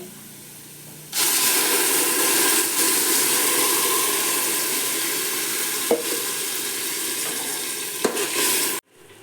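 Cashew nuts, onion and masala fry in a pan for a paneer mint biryani. A loud, steady sizzle starts suddenly and keeps hissing for several seconds, broken by two sharp utensil knocks, then cuts off abruptly.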